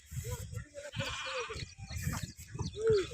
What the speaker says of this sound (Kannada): ಒಳ್ಳೆ ನಾಟಿ ಕುರಿಗಳು